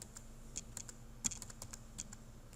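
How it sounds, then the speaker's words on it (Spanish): Computer keys are tapped in quick irregular clicks close to the microphone, with one louder keystroke like the enter key, in an otherwise quiet room. "Y voy a generar enter para que haya espacio."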